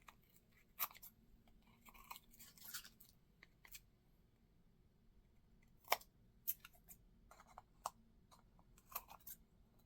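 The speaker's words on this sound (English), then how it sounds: "And this might be easier to trim with micro scissors." Small scissors trimming a paper ornament made with Mod Podge, giving crisp, irregular snips and clicks close by, some sharp and isolated, others in quick little clusters, over a quiet background.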